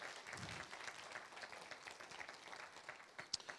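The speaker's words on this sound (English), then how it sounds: "Give Paul Landis, an American hero, another round of applause." Faint audience applause for Paul Landis at a literacy awards ceremony, a soft, distant patter of clapping that thins out toward the end.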